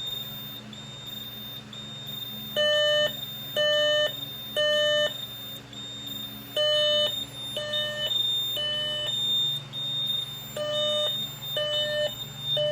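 A Simplex 4007ES fire alarm system sounds in repeated electronic beep bursts with short gaps, a steady tonal pattern over a low background hum.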